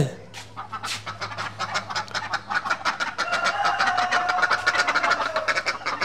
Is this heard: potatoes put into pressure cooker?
no